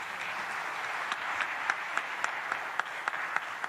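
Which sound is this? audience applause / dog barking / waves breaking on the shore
audience applause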